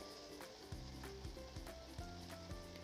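Cooked, well-dried beef hitting a pan of hot masala with ginger and garlic, a close sizzle with rhythmic scraping strokes as it is stirred, short and moderately loud.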